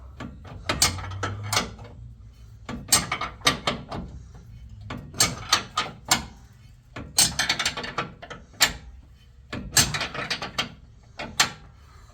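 Repeated metallic clicks and ratcheting clatter from a box end wrench turning bolts while fitting a Rough Country bed step on a Ford F250 truck, coming in short irregular bursts at close range with no talk.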